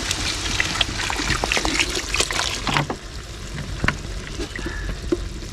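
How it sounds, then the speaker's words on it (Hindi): Water poured into a rice pot for qeema pulao cooked outdoors in the wild, a steady close trickle and splash with a few clinks, running without pause and with no talk. "यहाँ तक हमने इसमें पानी डालना है"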